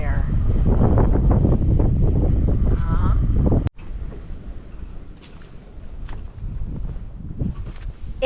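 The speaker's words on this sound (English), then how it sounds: "The wind was picking up and it was getting quite a bit colder." Strong outdoor wind buffets the microphone in a loud, rumbling roar for about three and a half seconds, then eases to a lighter, gusty rush with a few faint sounds late on a cold day.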